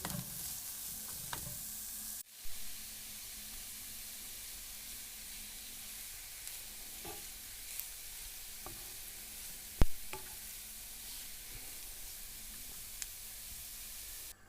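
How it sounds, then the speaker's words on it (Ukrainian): Onion and carrot fry in oil in a pan with a continuous hiss of sizzling, broken by occasional sharp clicks and scrapes of stirring, heard close with no voices. "Спочатку обсмажуємо цибулю. Потім додаємо морку і все разом обсмажуємо."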